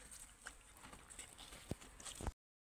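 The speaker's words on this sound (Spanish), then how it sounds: "Aquí tenemos a Kaisa bebiendo" A mare drinks and shifts her hooves, with a few soft scuffs and knocks and two sharper thuds near the end against a quiet background with no talking.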